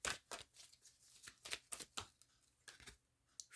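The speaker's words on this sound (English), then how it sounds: "I was told to shuffle, so let's shuffle." Tarot cards riffled and shuffled in several quick bursts, crisp papery flutters with short pauses between, close and fairly quiet.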